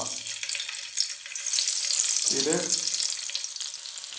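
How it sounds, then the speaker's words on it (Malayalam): Dried raisins fry in a spoonful of ghee in a pan, a bright steady sizzle with a short burst of voice partway through. "ഇത് വറുത്ത് കോരി എടുക്കുക."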